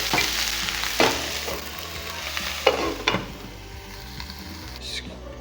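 Cauliflower frying in a pan for a potato and cauliflower bhujia, with a steady sizzle broken by several distinct scraping stirs of the spoon, close and fairly loud.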